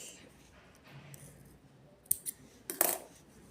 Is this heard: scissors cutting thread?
yes